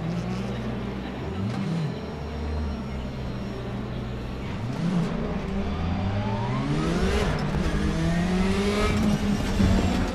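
A race car engine in the Raceroom video game, from an Audi team, leaves the pit lane at Spa-Francorchamps during qualifying. It sounds loud and continuous, with rising and falling revs and gear shifts, while other cars are heard nearby.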